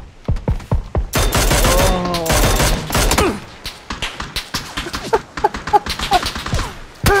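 Gunfire in the video game PlayerUnknown's Battlegrounds comes as sharp, loud shots in quick bursts and a dense rapid volley, with players shouting in alarm between the shots.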